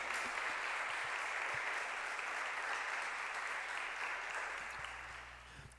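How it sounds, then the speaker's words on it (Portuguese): Applause from a church congregation during a sermon, a steady wash of clapping held at an even level for several seconds, then thinning out before a brief sharp sound at the end. "aplauda Jesus Cristo."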